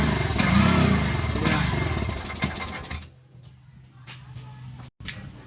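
A Bajaj RE engine with a throttle fault fires up and revs loudly. After about three seconds it falls away to a faint, rough idle with a brief drop-out and sputters before dying.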